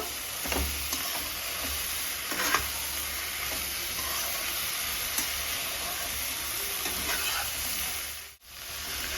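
A fish head with pumpkin greens is stirred in a pan, giving a continuous moderate sizzle with a few scraping strokes and a brief drop-off near the end, no voices.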